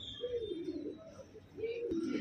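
A red-chested male Punjabi Malwai pigeon of pure Baba Dhanya stock, red chinna with a white eye, gives two drawn-out, throaty coos close up, with only faint background sound.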